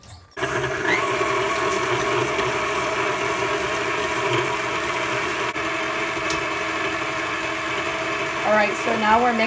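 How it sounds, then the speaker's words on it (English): An electric mixer beats butter and brown sugar into gingerbread cookie dough, a steady whirring motor hum that runs unbroken for several seconds at close range. "now we're mixing the butter and the brown sugar"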